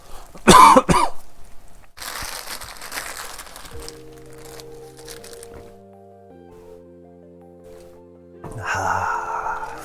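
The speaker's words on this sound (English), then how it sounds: "Oh, I got a cough." A loud burst of coughing right at the start, followed by quieter rustling and a sustained tonal hum, with a crinkly clatter returning near the end.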